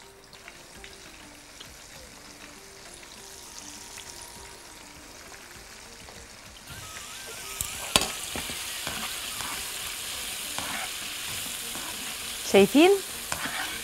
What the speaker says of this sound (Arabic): ونحطها في زيت سخن جدا